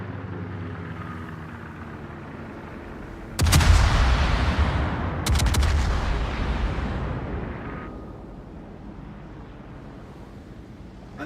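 Naval guns fire in World of Warships, two heavy booming salvos a couple of seconds apart, each a loud, broad blast that rolls off into a long rumbling decay over the game's background ambience.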